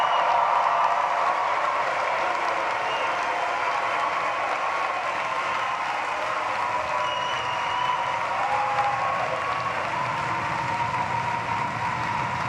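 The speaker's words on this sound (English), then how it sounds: "Give them a big round of applause." Crowd applause for graduates at a university commencement ceremony in an indoor arena, a dense, steady wash of clapping and cheering that stays loud and continuous throughout.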